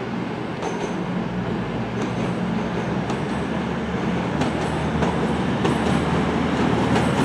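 A Class 220 cross-country diesel train pulls out of a station, its rumbling engine and rolling wheels loud and continuous nearby, with a rhythmic clickety-clack of wheels over rail joints building as it gathers speed.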